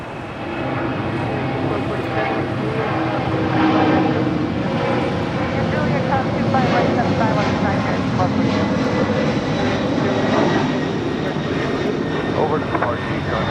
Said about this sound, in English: That is Northern Air Cargo 8201 departing to Honolulu on a 767-300 converted freighter.